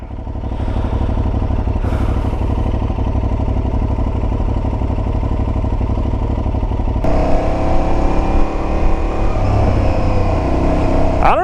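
An Aprilia Tuareg 660 motorcycle engine drones loud and close while riding, with throttle changes and a quick-shifter gear change midway that shifts the engine note, then rising revs.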